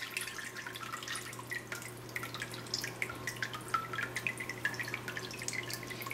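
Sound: water draining from paper pulp in a mold

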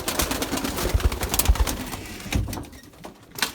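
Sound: pigeons released and flying

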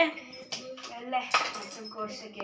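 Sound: cutting food on a cutting board

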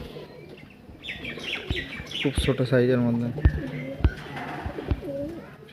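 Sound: white Malbahi male pigeon cooing

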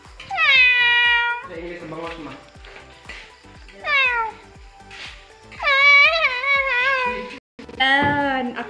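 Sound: cat meowing

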